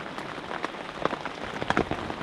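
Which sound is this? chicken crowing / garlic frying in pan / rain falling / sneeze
rain falling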